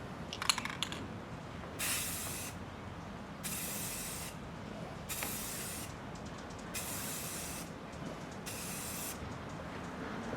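A spray gun paints stripes on a Suzuki GS550 cafe racer in several separate hissing bursts of roughly a second each, with quiet gaps between them. Each burst is moderately close and sharp.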